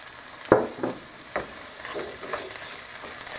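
Food sizzles steadily in a pan while a utensil scrapes and clinks through it in a few irregular stirring strokes.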